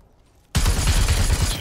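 Rapid automatic gunfire erupts abruptly in the Super People battle royale game, a loud, dense burst of shots at close range after a brief quiet start.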